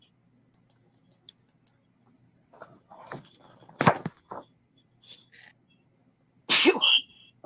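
Sneezes from a person during a live vintage sale chat, one loud burst near four seconds and another strong one near six and a half, with softer clicks and small noises between and a quiet room behind.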